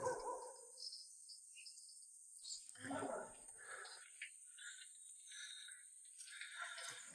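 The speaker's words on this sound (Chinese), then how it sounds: "这么远就 听到这么多的狗叫声" Many dogs bark far off around a lone farmhouse in the Guizhou mountains. The faint, scattered yelps are thin and distant, mixed with insect chirping and occasional bird calls.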